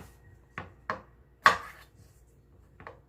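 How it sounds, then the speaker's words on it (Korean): A knife cuts grapes in half for a grape pizza, making four crisp chops on a cutting board, spaced apart with the third the loudest, over a quiet room. "세 알만 먼저 해가지고 얘를 반 잘라주세요"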